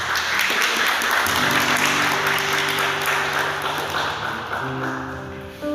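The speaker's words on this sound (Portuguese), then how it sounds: "Dá um beijo na palavra de Deus e aplauda com toda a força." A church congregation applauds hard after the Gospel reading, a dense sustained wash of clapping that fills the space, with sustained tones from an instrument rising beneath it midway and continuing to the end.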